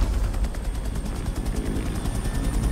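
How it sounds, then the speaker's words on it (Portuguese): Helicopter in the video game Call of Duty Cold War, a steady loud rotor thump with a rhythmic chop running the whole time, alongside bursts of machine gun fire in a combat scene. "O helicóptero dando aquela força lá"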